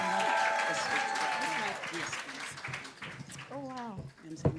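Audience clapping to welcome Lara Cameron Cole onto the stage, a broad dense burst of applause that begins loud and slowly thins, with voices and what seems like music carrying through it.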